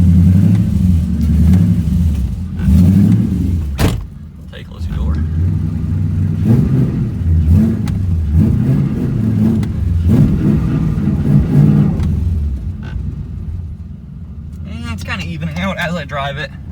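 A Pontiac Trans Am engine running on old fuel idles with a low, lumpy rumble and swells into revs, loud and close throughout, with people talking over it.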